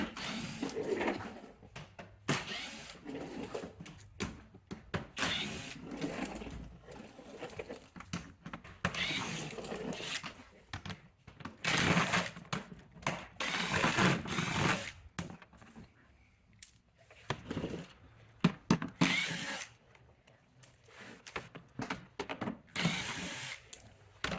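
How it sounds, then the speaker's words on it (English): Intermittent ratcheting and mechanical clicking come from removing 7mm screws holding a Chrysler 300 bumper to its underskirt, in irregular bursts with quiet pauses between them. "we're going to remove the size 7mm screws that are holding this part of the bumper to the underskirt there"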